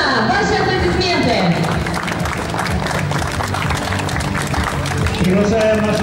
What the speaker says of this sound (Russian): Ефимова Анна, ваши аплодисменты!